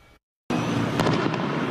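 Fireworks burst over South Queens on an Independence Day night, a dense crackling roar after a short silence, with sharper pops near the end.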